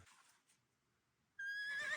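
A toy farm stable horse neighs suddenly after near silence, a single loud, bright whinny that rises in pitch and fills the end.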